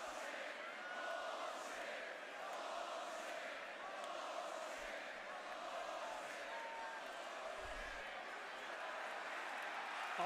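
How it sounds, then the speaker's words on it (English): Crowd in a wrestling arena at WWE Backlash 2025, a steady, distant-sounding roar of many voices with a rising and falling chant, continuous and fairly faint throughout. "Listen to the chant. Listen to the crowd."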